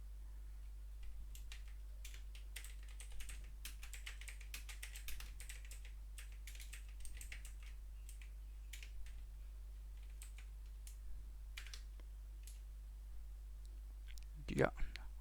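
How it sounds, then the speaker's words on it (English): Code typed on a computer keyboard, a quiet, close run of rapid key clicks in uneven bursts over a low steady hum, with faint speech in places. "I'll type something different this time."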